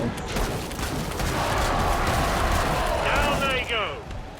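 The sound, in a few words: gunfire from guns in video game Killing Floor 2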